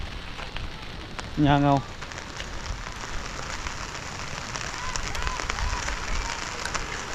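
Steady rain patters on surfaces around a house in a constant soft hiss, with a brief spoken phrase near the start.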